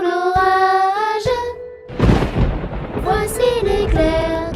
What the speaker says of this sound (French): Entends-tu le tonnerre? Il roule en approchant.